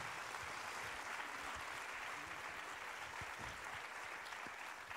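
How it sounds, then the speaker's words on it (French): Applause from an audience at a gathering, a faint, even, continuous patter of clapping that neither builds nor fades. "Merci Yves, je peux l'applaudir."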